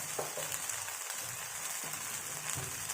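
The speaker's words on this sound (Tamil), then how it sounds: "தோசை ஊற்றி முடிச்சுட்டு உடனே ஆயிலை ஊற்றிக்கோங்க" Rava dosa sizzles steadily on a hot pan as oil is poured over it, a soft continuous crackle with small pops and stirring-like scrapes, fairly quiet.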